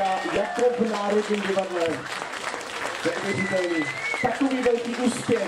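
Steady applause from an audience after a primary school's Christmas performance, continuing as a loud wash while a presenter speaks over it.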